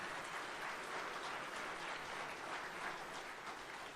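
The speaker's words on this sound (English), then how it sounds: "Another big round of applause for all these coaches," Steady applause from a large crowd honoring coaches at an awards ceremony, dense and continuous clapping that holds at an even level for the whole stretch with no voices over it.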